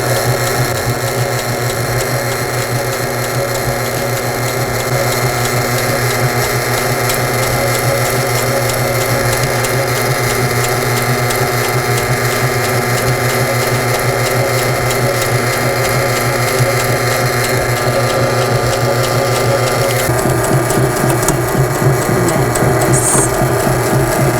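A home sewing machine stitches backwards in reverse and then forwards again. It makes a loud, steady, close mechanical whirring with a fast rhythmic chatter that runs without a break and shifts slightly near the end.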